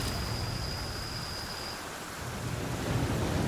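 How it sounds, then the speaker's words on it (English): Rain pours steadily while thunder rumbles low through a storm in the survival game Flame in the Flood, a constant wash of downpour with no voices. "Quite the storm."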